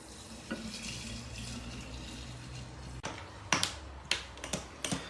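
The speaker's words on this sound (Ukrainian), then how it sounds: "Ну і заливаємо нашим спиртовим розчином, друзі." Alcohol solution pours into a three-liter jar with a soft, close trickle of liquid, followed by a few sharp knocks and clinks of glass near the end.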